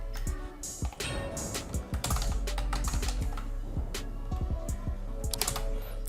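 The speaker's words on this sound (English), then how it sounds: "type your desired name in the appropriate box" Keys clack in quick, uneven bursts on a computer keyboard as a stream name is typed into a box, steady and close, with no voices.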